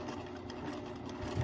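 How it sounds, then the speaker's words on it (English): A sewing machine stitching along a marked line on a quilt, running as a steady, close, continuous mechanical whir throughout with no talk over it. "all I'm going to do is keep stitching"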